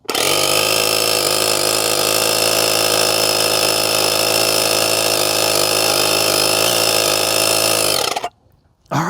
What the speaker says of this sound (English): I've got an air compressor built in. So if I just go ahead to that feature, I can go ahead and put some air in this tire.